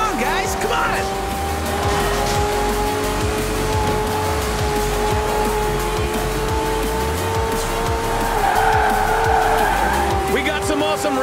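Race cars roar and skid with squealing tires in Forza Horizon 4, a steady, loud engine drone running through a street race lined with spectators, with a voice talking over it throughout.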